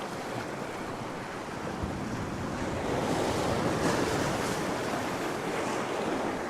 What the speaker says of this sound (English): Just keeping my eye on those waves.